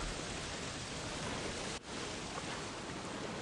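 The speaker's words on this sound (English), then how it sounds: "to change the way that the rain is going" Steady, even hiss of the rain weather effect in Ghost of Tsushima, a broad wash of downpour that briefly dips for a moment before resuming unchanged.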